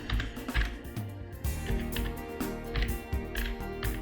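Someone types on a computer keyboard, quick irregular clusters of clicky keystrokes close by, with short pauses between bursts.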